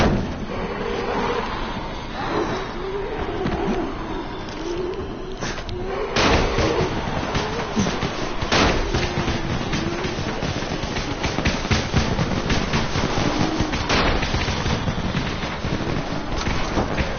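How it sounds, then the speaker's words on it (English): Firecrackers crackle and pop amid a zombie crowd in the video game Dying Light, a dense run of sharp bangs and snaps over steady wind-like rumble, loud and continuous throughout. "You still have some firecrackers, don't you? Just throw some into the crowd."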